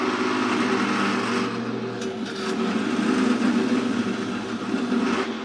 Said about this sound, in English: I'm going to try to get it heated up on the thicker steel, and then I'm going to put the other metal in and try to weld them together.